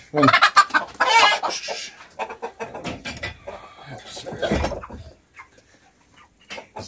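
Ross 308 broiler chickens set aside for slaughter cluck and squawk close by in loud, uneven bursts, with calls crowding the first seconds and then thinning to scattered clucks.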